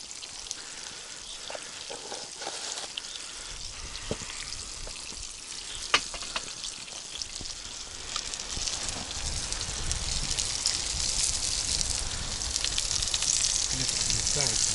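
Fresh fish sizzles and crackles in a pan outdoors, a steady dense frying hiss with occasional sharp pops that grows slightly louder toward the end, with voices talking over it.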